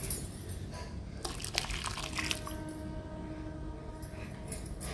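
Water splashes and pours into a pot of broken emmer wheat halwa for a couple of seconds, then a softer trickle follows. The sound is faint and close, over low background hiss.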